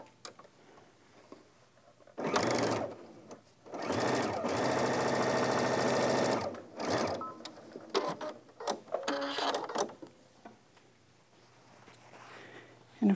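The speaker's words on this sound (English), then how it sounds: "then we need to sew our facing to our two facings, the back facing and the front facing, together." A sewing machine stitches pant facings together, back facing to front facing, in short fast bursts of rapid mechanical whirring, close and fairly loud, with quiet gaps and light handling noise between runs.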